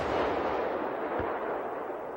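Main gun of the S-tank (Stridsvagn 103), a fixed cannon, firing: one heavy, booming blast with a long rolling, rumbling decay that fills the whole clip, loud and without voices.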